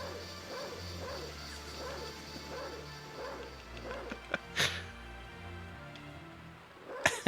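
A wolf barks in the Sega Saturn version of Castlevania: Symphony of the Night, a few short game barks standing out over looping background music, with a sharper crash near the end.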